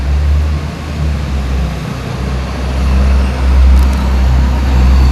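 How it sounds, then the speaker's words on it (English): A garbage truck rolls through a shopping area along a tramway at night, a loud low rumbling engine that swells and fades as it passes close by, with general street traffic noise around it. "We've got a garbage truck coming."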